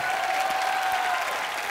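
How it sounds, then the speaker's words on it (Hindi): Steady, dense applause from a studio audience at a comedy show, loud and continuous with no talk over it, the whole crowd clapping at once. "जोरदार तालियों से स्वागत कीजिए"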